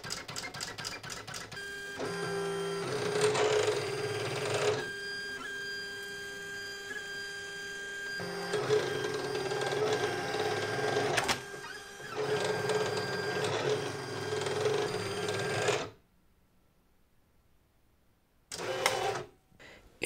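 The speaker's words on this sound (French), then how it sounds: "je lance à nouveau ma machine pour qu'elle me découpe ma petite boîte." Silhouette cutting machine cutting a small paper box: a steady mechanical whir with buzzing carriage motion in repeated bursts, briefly cutting out near the end before a short final burst.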